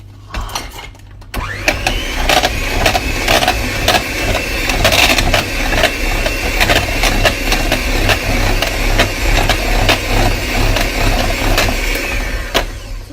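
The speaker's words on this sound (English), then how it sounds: "So add that in, and then start to whisk" Egg, yogurt and margarine cake batter is whisked with a steady motorised whir, broken by frequent sharp ticks and clacks of beaters against the bowl, running continuously and close up after a brief start.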